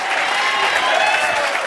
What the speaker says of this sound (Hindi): ये तालियां मैंने अपनी टीम के लिए करवाई है